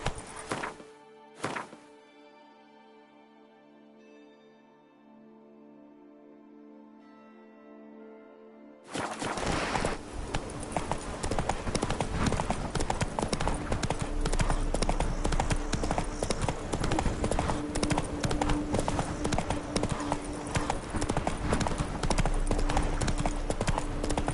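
Hoofbeats of Roach, the horse in The Witcher 3: Wild Hunt next-gen on PS5, a fast, dense gallop of clip-clop thuds that starts after a quiet musical stretch and stays loud and continuous to the end.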